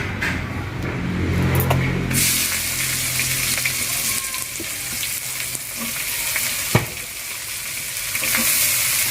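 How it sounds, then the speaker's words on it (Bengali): Onions go into hot oil with tempering spices such as cloves, and a loud, steady sizzle surges up close and continues with occasional stirring knocks, without any talk. "আমার হয়ে গেছে ফোড়নটা এবার আমি এর মধ্যে পেঁয়াজ দিয়ে দেবো"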